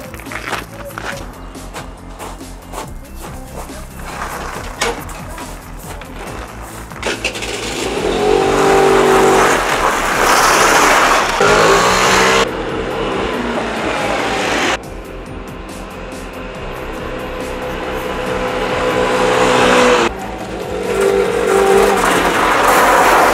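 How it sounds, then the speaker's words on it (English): A moped engine drones and revs while riding, its loud, steady buzz rising and falling with throttle changes throughout. "Yep, I do really drive a moped."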